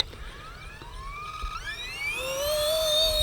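A brushless RC Era C190 helicopter spools up for an automatic takeoff, its motor whine climbing steadily in pitch and growing louder over a few seconds, heard close with no speech.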